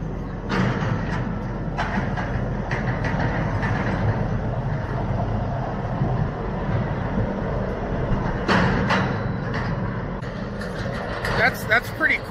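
A freight train rolls past close by in downtown Kansas City, a loud, continuous heavy rumble with occasional metallic clanks and rattles throughout.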